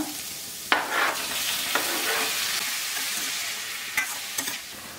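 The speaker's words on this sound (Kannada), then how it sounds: "ಕ್ಯಾಬೇಜ್ ಸ್ವಲ್ಪ ಫ್ರೈ ಆದಮೇಲೆ ಟೊಮೆಟೊ ಹಾಕೊಂಡ್ಬಿಡೋಣ" Shredded cabbage frying in a pan gives a steady, close hiss with a few sharp clinks and scrapes from stirring; no one speaks.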